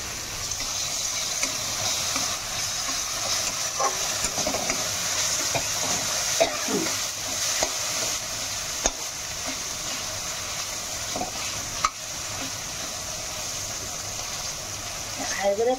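Chopped tomatoes are stirred into a frying pan for a rohu fish and bottle gourd dish, giving a continuous sizzle with repeated scraping stirs throughout.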